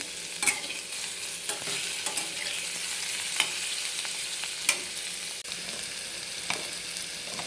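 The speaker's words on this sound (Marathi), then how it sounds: "मीठ टाकल्यानंतरही दोन मिनिट तेलावरच परतून घ्यायचे" Baby potatoes sauté in oil with salt in a pan, giving a steady sizzling hiss broken by periodic scraping stirs, fairly close and moderately quiet.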